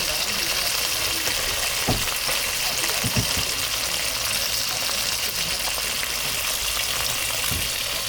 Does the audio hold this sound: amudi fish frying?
yes